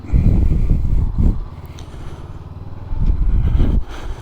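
A 2019 Honda CBR500R motorcycle under way, its low engine drone rising in two louder pulses of acceleration with steadier, quieter cruising between them, heard close from the rider's position with wind noise.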